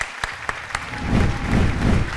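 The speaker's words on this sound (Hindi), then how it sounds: "बहुत सारी तालियां होनी चाहिए" Studio audience on the Pakistani game show Jeeto Ek Minute Mein starts clapping after a few sharp hits, then swells into steady, fairly loud applause with no talking.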